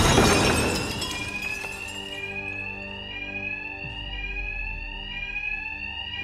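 Inside Gotham's largest bank in Batman: Arkham Knight, glass shatters loudly at the start, then a shrill electronic alarm rings on in steady repeating tones that fill the rest of the scene, with no speech.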